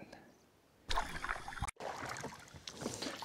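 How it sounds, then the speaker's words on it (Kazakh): A small boat travels on open water, with wind buffeting the microphone and a sudden rush of water and hull noise starting partway through, brief and close. "Қайықпен жүріп баратымыз атқа қарай."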